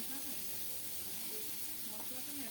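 Onion, garlic, ginger and cumin paste frying in hot oil with panch phoron, a steady soft hiss and sizzle running throughout with faint voice-like tones.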